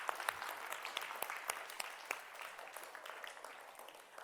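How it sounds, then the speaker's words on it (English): Audience applause at a school reading and writing event, a steady patter of many hands clapping at moderate distance with a brief loud burst at the very end. "A round of applause for Alicia"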